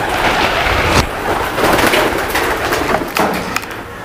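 Pigeons on a farm cooing softly amid a busy rustle, with a couple of dull thumps from movement nearby and no speech.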